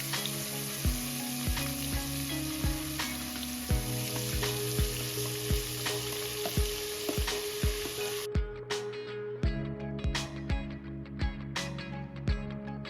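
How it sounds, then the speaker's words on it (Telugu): Masala sizzles steadily in hot tempering oil in a pan for an aloo curry, with sharp clicks of a spoon stirring through it and a brief dip in the sizzle partway before it resumes. "తాలింపు వేగాక మన మసాలా వేసుకొని పచ్చివాసన పోయే వరకు వేపుకుందాం."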